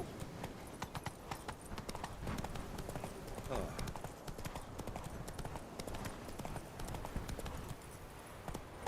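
A horse gallops in The Witcher 3 video game, its hooves beating a fast, steady, continuous rhythm that stays at an even loudness throughout.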